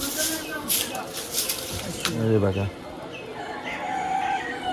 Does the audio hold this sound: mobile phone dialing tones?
no